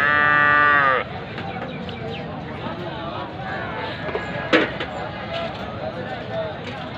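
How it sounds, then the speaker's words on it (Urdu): Buffalo calves at a livestock sale yard, a loud drawn-out moo opening the scene, then a steady murmur of animals and background noise with a brief sharp call midway. "دوستو دیکھیں ادھر بھینس کے بھی کافی زیادہ بچڑے بچڑیاں موجود ہیں۔"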